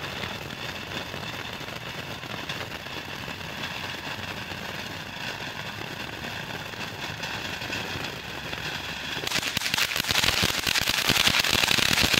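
A Jumbo Rocket Fountain firework spraying sparks with a steady close hiss and crackle, swelling brighter and louder near the end.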